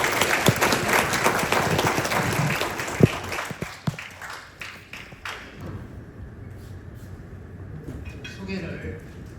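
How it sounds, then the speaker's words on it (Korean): Audience applause at a Jeju business and tourism forum as a speaker is welcomed to the stage: a dense wash of clapping that is loud at first, then thins and fades, with a few sharp thumps and some talk near the end. "뜨거운 박수 부탁드립니다"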